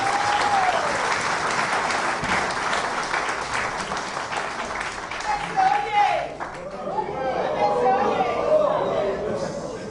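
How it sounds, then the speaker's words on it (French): An audience at a political movement gathering applauds in a steady wash of clapping amid crowd chatter, and voices rise over it near the end as the clapping fades. "que je vous demande d'applaudir"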